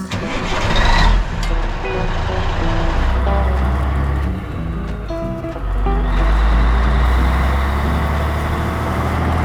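A 1985 Ford CL9000 truck engine idles cold with a loud, steady diesel rumble close by, with a low throb and mechanical clatter running throughout.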